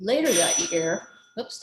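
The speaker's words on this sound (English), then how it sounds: "that's my doorbell." A doorbell rings with a bright, ringing chime, followed by a brief spoken voice and a short second tone near the end.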